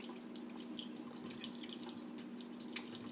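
Tap water runs steadily while homemade butter is rinsed and squished by hand in a sink, a soft continuous splashing stream with a few small drips, fairly quiet and close.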